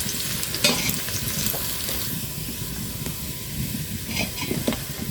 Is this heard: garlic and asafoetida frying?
yes